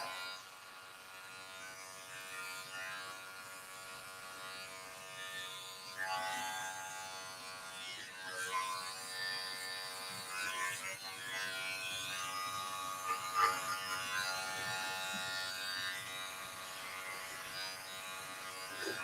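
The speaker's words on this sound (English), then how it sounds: "I like to do clipper over comb." Electric hair clipper buzzing steadily while cutting hair with the clipper-over-comb technique, a continuous close, moderately loud hum with slight shifts in pitch and intensity as it moves through the hair.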